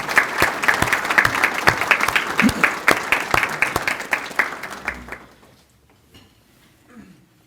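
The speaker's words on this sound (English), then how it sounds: "let's thank them and give them a round of applause." Audience at an awards luncheon gives a round of applause, many hands clapping close and crisp with distinct individual claps, then fading out abruptly into near quiet with faint room sounds.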